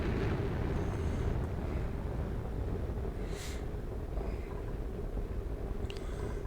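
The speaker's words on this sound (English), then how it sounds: "There comes one of our rockets." A rocket arriving in the video game Oxygen Not Included gives a steady low rumbling roar that holds for the whole stretch. Brief higher whooshes rise above the drone, and no one speaks.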